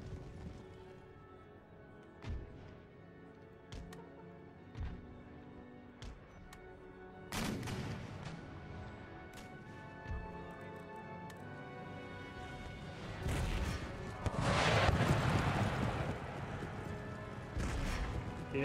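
Battle sounds from Empire: Total War with artillery and musket fire, scattered sharp reports early, then heavier overlapping blasts and rumbling volleys building toward a dense, loud barrage in the second half, no speech.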